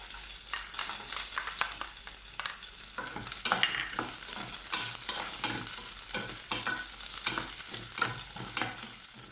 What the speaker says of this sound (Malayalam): ഇതിൻ്റെ മെയിൻ ഫ്ലേവർ തേങ്ങാക്കൊത്തും ഉള്ളി അരിഞ്ഞതും കൂടെ മൂപ്പിച്ചതാണ്